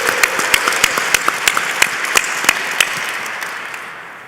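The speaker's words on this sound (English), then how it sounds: "Round of applause." An audience at a workplace ergonomics awards ceremony applauds, with sharp, fairly regular claps that gradually thin and fade.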